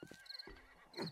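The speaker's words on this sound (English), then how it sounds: "there's another horse over there" A horse in 7 Days to Die lets out a single faint whinny, a brief rising and falling neigh with light hoof clops, heard at a distance.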